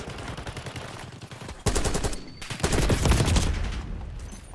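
Automatic gunfire rattles in Call of Duty Black Ops 6, loud close bursts that stop briefly and then resume heavier, with a steady rapid rhythm.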